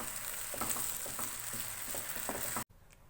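Ground fried onion sizzles hard in a pan over a high flame, a dense steady frying hiss with soft stirring scrapes, cutting off abruptly near the end.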